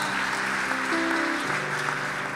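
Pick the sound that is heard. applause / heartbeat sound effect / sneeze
applause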